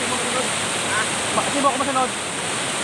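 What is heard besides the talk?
Libtong Falls waterfall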